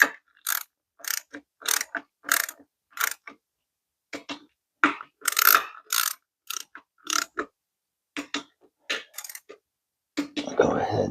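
A ratchet tightens the valve cover bolts on a 2016 Honda Odyssey: short bursts of rapid, close mechanical clicking with brief pauses between strokes, ending in a louder rattling clatter.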